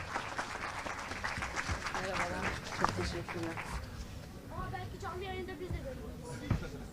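Applause rises at the reopening ceremony of the restored İmrahor Mosque in Üsküdar as the mayor is invited to the podium; moderate clapping runs beneath a speaking voice and a few scattered shouts.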